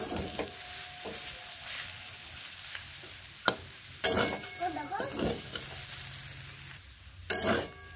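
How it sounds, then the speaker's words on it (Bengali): Bottle gourd leaves nearly done frying in a pan: a low steady sizzle broken by several clacking stirs and scrapes of a utensil against the pan, close up and fairly quiet. "আমার এগুলো ভাজা প্রায় হয়ে এসেছে।"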